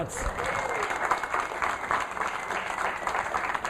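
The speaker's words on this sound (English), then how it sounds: "So you can give a hand clap for that." An audience at a red carpet event applauds, steady moderate clapping throughout with crowd murmur and faint voices blended beneath it.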